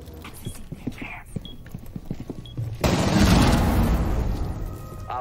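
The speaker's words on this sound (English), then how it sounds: "So I say the shotgun breach is looking like a pretty good strategy, flying through the window." Shotgun fire in Rainbow Six Siege: a run of soft footstep-like knocks, then a loud burst of blasts and crashing debris that fills the second half, close and harsh.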